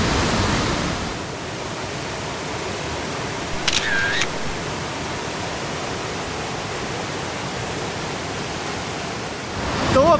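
The 125-metre Salto São Pedro waterfall in Faxinal, Paraná, gives a steady, dense roar of falling water that fills the scene without pause, with a faint brief electronic tone partway through.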